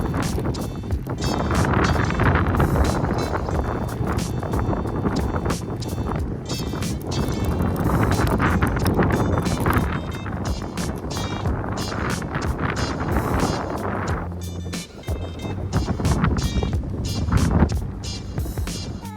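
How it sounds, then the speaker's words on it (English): Strong gusting wind roars steadily around a parked car on a cold day, broadband and buffeting the microphone throughout, with a brief lull near the end and no talking. "The wind really picked up in the very short drive over here."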